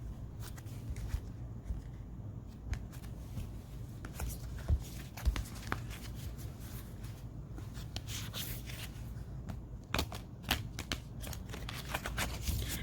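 Oracle cards from a Moonology deck being shuffled by hand, giving a steady soft papery riffle and rustle with occasional sharper flicks and taps, close and fairly quiet throughout, with no talking.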